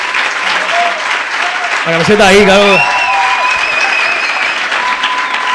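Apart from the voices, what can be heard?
audience applause after a talk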